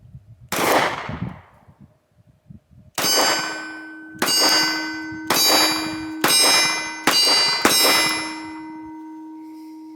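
Sig P365 and P365X pistols, one fitted with a Romeo red dot, fire at steel targets: an opening shot, then a pause, then six sharp shots, each followed by a ringing metallic clang that decays slowly.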